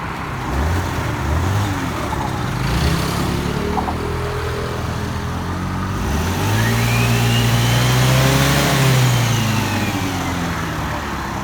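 RKS Bolero 50cc scooter engine revving hard in repeated rising bursts that climb and hold against the ignition cut-off, loud and close with no talking.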